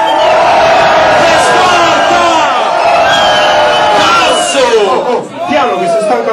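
A live hip-hop concert crowd in Milan shouts and cheers loudly, many voices overlapping in a sustained roar with rising yells near the end.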